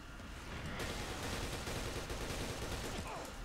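Hammerhead weapon fire in the F.E.A.R. Online video game, a dense, loud barrage of shots rolling on without pause, with a sharper burst near the start, close and unbroken to the end.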